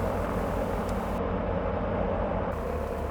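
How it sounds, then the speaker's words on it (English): A Cessna light aircraft in Microsoft Flight Simulator 2024 roars steadily on its takeoff roll across a grass runway, loud and continuous engine drone with rumble and no talking. "we're taking off on grass"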